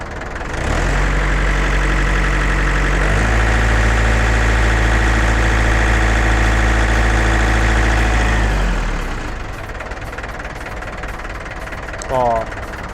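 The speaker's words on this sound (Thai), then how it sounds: "เร่งเครื่อง" A Yanmar EF453T 45 hp diesel tractor engine runs loudly up close, climbing to a higher rev, holding there, then dropping back to a quieter idle.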